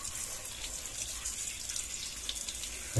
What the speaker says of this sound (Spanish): lo que hacemos es hacer una ducha bien finita. Y ahí lo lavamos